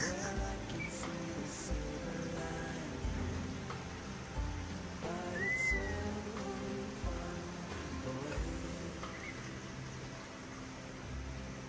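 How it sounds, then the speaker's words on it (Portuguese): Steady rain falls outside a house, a soft, even patter and hiss lasting throughout, with a brief faint chirp partway through. "Tá chovendo."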